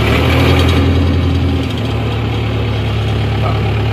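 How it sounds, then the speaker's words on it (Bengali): An old excavator diesel engine idles steadily after starting on the first crank, a loud, close, continuous low rumble with a slight dip partway through and no speech. "এক সেলফেই স্টার্ট হয়ে গেছে। এইবার কিছু সময় একটু ইঞ্জিনটাকে রাখবো"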